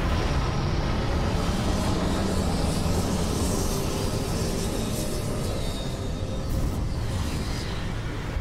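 A spaceship landing in Starfield: a steady, loud, broadband roar of engines and rumble that holds evenly throughout, close and continuous, with no talk over it.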